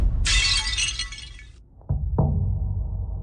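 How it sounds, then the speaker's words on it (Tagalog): A glass liquor bottle shatters, a loud burst of breaking glass lasting over a second, followed by a couple of dull thunks and clinks of settling shards. "nabasag mo! Isang bote lang naman yan."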